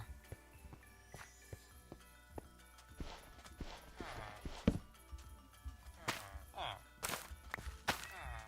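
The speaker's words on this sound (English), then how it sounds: "With a camel, I guess we can ride north." Soft, steady clip-clop footsteps of a camel walking in Minecraft, a regular plodding rhythm with occasional sharper thuds and brief game sound effects layered in, fairly quiet throughout.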